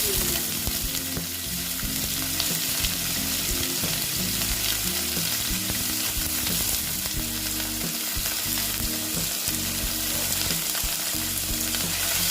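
Small mourola fish fry in hot oil, giving a loud, dense and continuous sizzle with crackling and spattering throughout, close up and with no voices.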